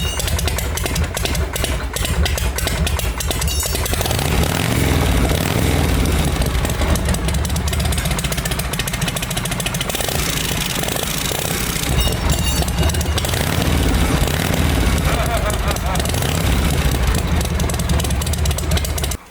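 A Harley Shovelhead motorcycle engine idles with its exhaust baffle removed, a steady loud low rumble running throughout the whole clip, close by, with no talk over it.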